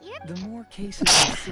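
A single sharp sneeze bursts out near the end, preceded by animated voices speaking over light game background sound in Genshin Impact.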